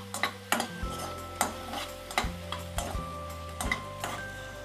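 Cashews stirred in a pan while cooking butter paneer, a spoon scraping and clinking against the metal in a steady rhythm of close, repeated knocks over a faint sizzle, with no voices.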